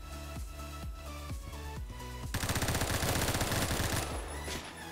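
Gunfire in Roblox Phantom Forces: a rapid burst of rifle shots, loud and dense, with sharp repeated cracks and ringing tails, no talking.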